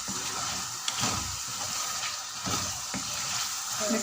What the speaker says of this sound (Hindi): 5 मिनट के लिए मीडियम हाई फ्लेम पे हम चनों को भूनेंगे।